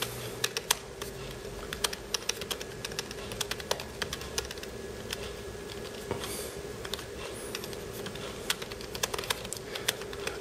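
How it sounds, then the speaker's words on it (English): Typing on a 13-inch Retina MacBook Pro (October 2013) fitted with a Kuzy keyboard cover and hard case: a steady, fairly faint run of soft, muted key clicks with uneven rhythm and no voices. "I'm just gonna attempt to type here."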